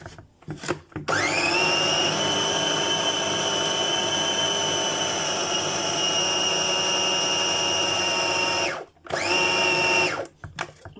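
Electric blender whirring loudly and steadily as it mixes seasoning with salt and black pepper, running for about eight seconds, stopping briefly, then spinning up again.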